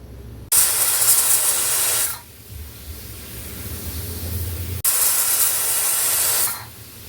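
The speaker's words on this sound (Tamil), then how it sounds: "இப்போது நமக்கு 5 விசில் வந்துருச்சு" A pressure cooker whistle releases two long loud bursts of hissing steam close by while cooking ven pongal, each lasting about two seconds, separated by a quieter low rumble.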